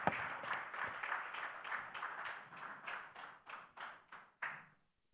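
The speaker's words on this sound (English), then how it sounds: "A round of applause once more for her." An audience at a college prize-giving day applauds after a speech, a modest round of clapping that thins into a few scattered claps before fading out.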